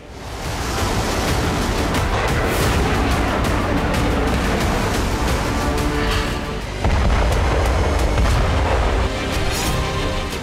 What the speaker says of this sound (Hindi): रूस ने यूक्रेन के विनित्स्की क्षेत्र पर भी मिसाइल हमला किया।